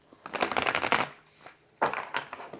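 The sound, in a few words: shuffling tarot cards, The Wild Unknown deck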